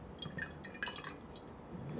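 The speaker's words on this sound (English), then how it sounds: "I want to make sure that the brush didn't dry with the air condition here, so I'm going to dip it inside water" A paint brush is dipped into a container of water, giving a few faint, small drips and light splashes with soft clinks, quiet and close, with no talking.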